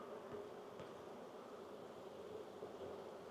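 Honey bees bearding on the front of a backyard hive make a steady, faint, continuous buzzing drone with no voices.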